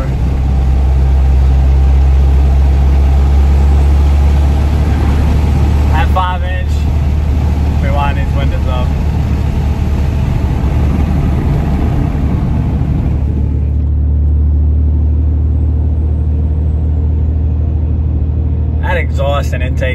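A Cummins 6.7 diesel pickup with an aftermarket eBay intake and stock turbo, its engine a loud, steady low rumble throughout, with a brief higher whistle partway through and another near the end.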